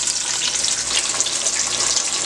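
Battered fish fries in hot oil on a stovetop for Barbados-style fish and chips, giving off a steady, bright crackling sizzle that holds evenly throughout.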